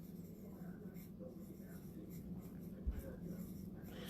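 Pencil sketching loose shapes on paper: faint, close scratchy strokes that continue in a soft, steady scraping texture under a quiet room tone, with soft breathing nearby.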